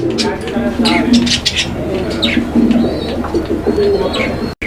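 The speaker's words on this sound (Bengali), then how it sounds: "আফগান লাহরি কবুতরের একটা জোড়া" A pair of Afghan Lahori pigeons coo in low, repeated rolling calls at close range, with someone talking over them and other birds chirping faintly at a pigeon farm.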